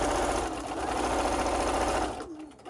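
A sewing machine stitches fabric with pins placed horizontally, a steady close mechanical whir with rapid needle clatter that stops abruptly near the end.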